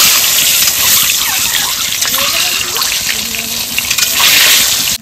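Desi chicken eggs frying in hot oil with turmeric and salt in a wok, a steady loud broadband sizzle and hiss throughout with scattered crackles, no voice over it.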